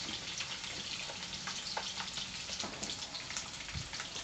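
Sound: pork bones deep-frying in oil

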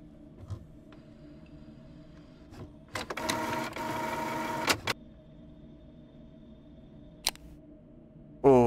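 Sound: office printer running

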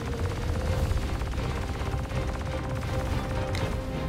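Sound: spaceship guns firing in Star Citizen video game

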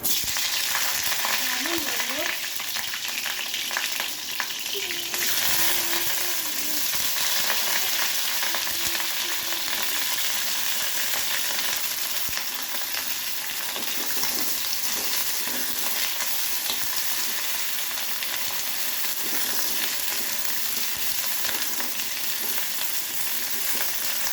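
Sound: cauliflower frying in hot oil

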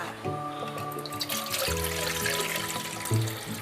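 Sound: water being poured into a pot

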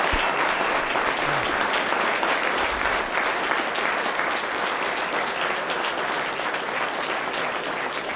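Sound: warm round of applause from audience

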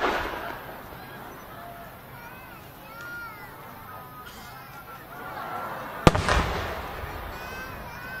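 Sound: size 8 firework shell bursting in the sky

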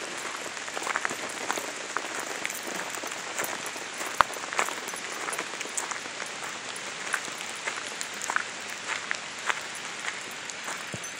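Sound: rain falling

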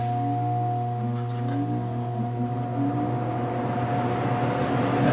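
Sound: workshop air filter blower motor running

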